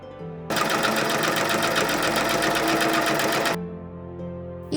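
A sewing machine runs a final seam on a costume piece, a steady fast mechanical whir with rapid needle rhythm lasting about three seconds, close and loud, then stopping.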